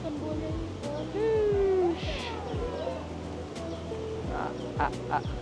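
Outdoor bird calls at Batu Caves, Malaysia, including a drawn-out whistled note and scattered chirps, over steady background chatter and ambient noise.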